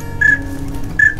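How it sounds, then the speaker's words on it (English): A duck call whistle sounds during a duck hunt where pintails and wigeon fly overhead: two short, clear, high whistled notes about a second apart over a low outdoor background rumble. "Your whistle sounds nice, Reagan."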